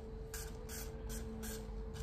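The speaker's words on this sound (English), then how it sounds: "and I'm gonna spray it a little bit" Hair glue sprayed onto wig lace edges in four short hissing bursts, close and crisp over a quiet room hum.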